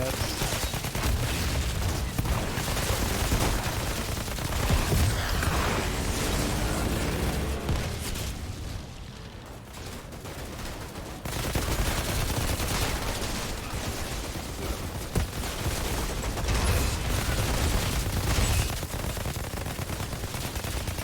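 Dense, continuous gunfire pours in on the player in the shooter game Outriders, rapid bursts and blasts layered thickly for most of the stretch, easing briefly midway before resuming loud; a voice speaks now and then beneath it.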